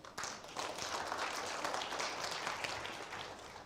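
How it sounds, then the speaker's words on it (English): An audience applauds a conference panel at a tech hub event, with dense, sustained clapping filling the room evenly from start to finish. "So please give my panel another round of applause."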